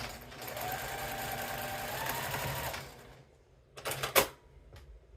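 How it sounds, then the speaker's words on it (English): A sewing machine stitches fabric for a small tea wallet, a steady, fairly loud mechanical whir for about three seconds, then stopping, followed by a few quick clacks and knocks as the work is adjusted. "And we are going to sew that down."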